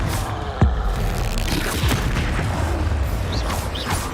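A fiery Confringo blast erupts during spell-casting combat in Hogwarts Legacy, a short thudding boom early on followed by lighter impacts and rumbling game action, with no talk over it.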